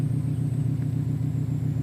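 A 2007 Subaru STI with a manual gearbox idles in reverse as the clutch is eased out, a steady low engine rumble holding even with no talking.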